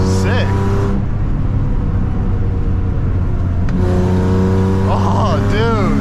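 A modified, rough-condition Infiniti G35 drives along a road with its engine droning loud and steady, rising in pitch as the car accelerates, heard from inside the car with a brief break partway through.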